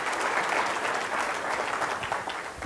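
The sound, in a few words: audience applause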